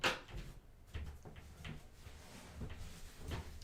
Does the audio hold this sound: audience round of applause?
no